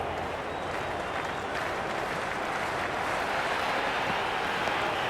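Crowd noise at a cricket ground in a cricket video game, a steady dense wash of applause and murmuring cheers that holds evenly throughout without breaks.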